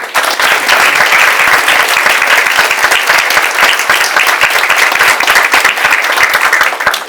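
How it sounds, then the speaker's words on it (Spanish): Audience at a Peruvian compliance seminar giving the presenters a strong round of applause, loud continuous clapping that carries on without pause throughout. "quiero pedir un fuerte aplauso para los expositores"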